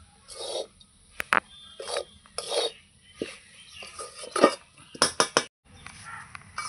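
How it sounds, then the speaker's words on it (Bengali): Puffed rice and melted jaggery stirred in a pan, giving close scraping and rustling strokes with sharp clinks of a utensil against the metal, coming in irregular bursts. "এইভাবে ভালো করে গুড়টাকে মুড়ির মধ্যে মিশিয়ে নিতে হবে পাক দিয়ে।"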